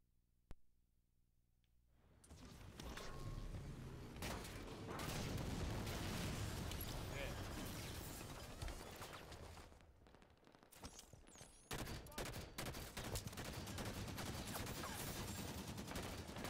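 Dense gunfire from a Halo 5 match, rapid bursts and heavy reports layered almost nonstop after a quiet start, loud and close with occasional booms and a brief lull near the middle.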